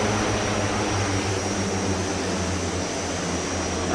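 Constant droning hum of the Twin Otter's turboprop engines in FSX, a steady loud whir with a faint high whine throughout.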